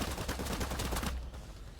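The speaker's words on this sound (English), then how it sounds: "Let's start by you just unloading some bullets." Gunshots in the video game Cyber Knights: Flashpoint, a rapid burst of closely spaced shots that stops abruptly partway through, leaving a quieter tail.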